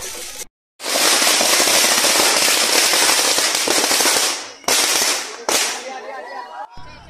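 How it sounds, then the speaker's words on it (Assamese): Firecrackers burst at a wedding in a loud, dense, rapid crackling barrage that breaks off briefly and flares up again, with a voice heard faintly near the end. "ফটকাৰ চাউণ্ড মানে ওচৰত যাবলৈকে বহুত বেছিয়ে ভয় লাগে তো"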